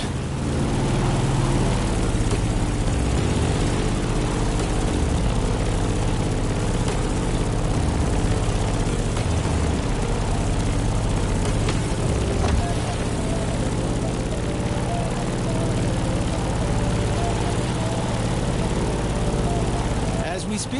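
A Grumman F8F Bearcat propeller engine in the video game The Crew drones steadily and loudly throughout, a constant low rumble with a faint whine, sustained without pause.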